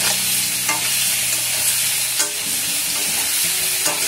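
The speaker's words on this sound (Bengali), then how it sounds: "জাস্ট ভাজার জন্য সামান্য বেগুনটাকে ভেজে" Eggplant seasoned with salt and turmeric fries in oil in a pan on a gas stove, a loud dense sizzle filling the whole stretch, with a few soft knocks of stirring and no speech.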